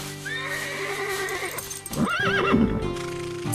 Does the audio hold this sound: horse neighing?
yes